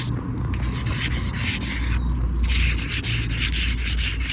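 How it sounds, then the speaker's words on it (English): Tin foil rubbed hard against corrosion on the aluminium wheel of a Yamaha XT660R motorcycle: close, continuous rhythmic scrubbing with quick repeated back-and-forth strokes and no talking. "you're literally just going to rub the tin foil up against the corrosion"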